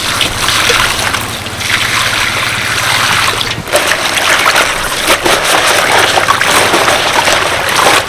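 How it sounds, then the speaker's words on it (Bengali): A large stream of water pours steadily into a big bowl holding taro leaves for washing, a loud, continuous splashing gush close by that runs unbroken for several seconds. "তার জন্য একটা বড় পাত্র নিয়েছি এর মধ্যে কচু পাতাগুলো দিয়ে দিলাম বেশ অনেকটা পরিমাণে জল দেব"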